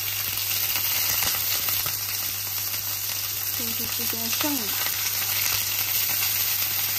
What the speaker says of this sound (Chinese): 这带鱼煎一下，